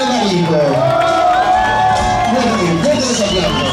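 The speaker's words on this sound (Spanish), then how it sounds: "Que se escuche fuerte, fuerte los aplausos para su tío Ángel Navarico." Party guests cheer, whoop and shout loudly for uncle Ángel Navarico at a family celebration with a waltz, a dense crowd roar with children's voices and speech mixed in throughout.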